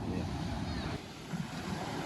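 Sea waves at a beach with strong surf, a continuous wash and roar that dips briefly partway through, with wind noise buffeting the microphone.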